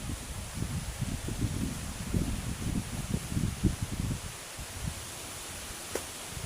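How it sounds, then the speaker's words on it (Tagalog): Wind gusts from a typhoon rushing through trees with a rustling, broadband roar that swells and dips for several seconds, then eases to a quieter hiss near the end. "Ang hangin sa taas."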